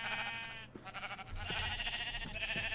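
Sheep bleating in a Minecraft modpack, a few wavering bleats over a steady game background with no talk.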